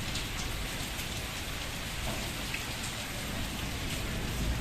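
Heavy rain pours down steadily, a dense continuous hiss of drops hitting surfaces, with no voices.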